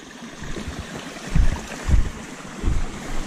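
A waterfall rushes with continuous water noise, heard outdoors during a ride. Heavy low wind buffets against the microphone come in repeated gusts over the flow.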